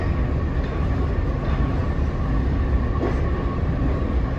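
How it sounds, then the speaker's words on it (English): A push-pull commuter train rolls into a Long Island Rail Road station track at Grand Central, a steady low rumble with faint squeals and clanks and no talking. "we got a push-pull train coming in."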